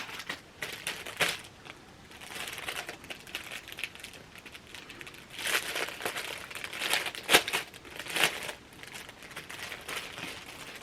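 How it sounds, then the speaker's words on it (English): Floss packaging crinkles in repeated bursts of close, dry rustling and crackling, some louder than others, with brief quieter gaps between and no talk. "So I will do a lot of crinkling"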